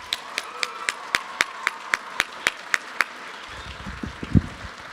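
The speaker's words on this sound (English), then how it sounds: "So let's give an applause to the dancers one more time." A live audience at a teen summit event claps in sharp, evenly spaced bursts of about a dozen claps, then scattered, looser clapping and some low rumble follows near the end.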